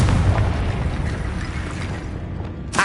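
A booming Confringo spell explosion from the Hogwarts Legacy video game, a loud dense low rumble sustained across the whole moment, with a sharp burst flaring at the very end.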